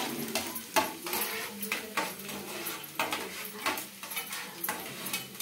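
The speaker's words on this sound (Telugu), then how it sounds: "ముందుగా వెల్లుల్లి రెబ్బలు అయితే వేసుకోవాలి. చిన్న కట్ చేసుకున్నాను ఇక్కడ. బాగా కొద్దిగా ఫ్రై చేసుకోవాలి." Chopped garlic cloves fry in a pan for handi chicken, a steady soft sizzle broken by repeated sharp clinks and scrapes of a utensil against the pan.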